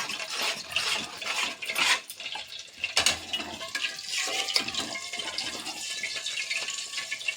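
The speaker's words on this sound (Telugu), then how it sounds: "ఇట్లా నూనె పోసుకొని ఇట్లా కలుపుతూనే ఉండాలి" Misurpak sweet mixture being stirred in a pan after oil is poured in, a steady wet scraping and bubbling that rises and falls irregularly close by, with no talk.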